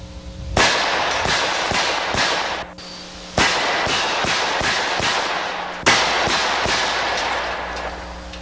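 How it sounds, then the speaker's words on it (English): A polymer-framed Kimber pistol with a wide-body magazine fires a rapid string of sharp, loud, close gunshots in three quick clusters, with brief pauses between the bursts. "what's different is 14 shots there. This is the polymer framed Kimber with what we call a wide body magazine"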